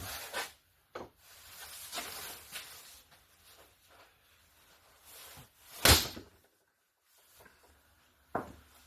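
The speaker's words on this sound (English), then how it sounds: "putting our cap on our die, and finally 14-pound sledgehammer" A 14-pound sledgehammer strikes a capped die for stamping a copper poker chip, landing one loud, sharp metallic blow. Quieter scraping and handling noises come before it, and a lighter knock follows.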